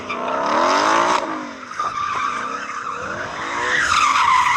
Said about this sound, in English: we've got to warm up our tyres